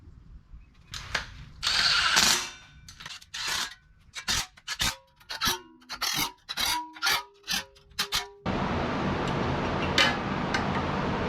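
A ratchet tightens bolts during final assembly of a 6.2 LS engine, with a rapid series of sharp clicking strokes followed by a steady whirring rasp, close up and with no talk.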